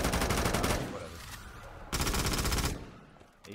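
Rapid automatic fire from an AK-74U in a Call of Duty custom zombies game, two loud sustained bursts with a short gap between them, followed by a brief final shot.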